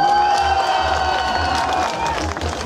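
Spectators in a live head-to-head contest cheer for a competitor, a loud, continuous roar of voices and whoops that stays strong throughout and thins slightly near the end.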